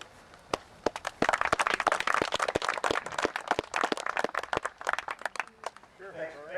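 Scattered, uneven handclaps from a small audience greet a speaker introduced as the AMA District 2 vice president, the sharp individual claps building into a loose patter before fading out as a voice starts up.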